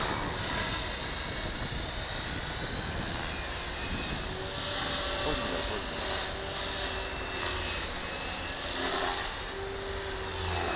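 A mid-size model helicopter's engine and rotor whine hum steadily nearby, the pitch drifting slightly as it flies, with faint voices in the background.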